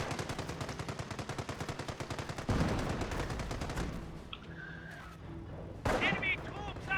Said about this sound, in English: Enemy troops are firing on us!